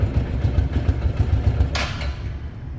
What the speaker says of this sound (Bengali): দেখেন সাউন্ড,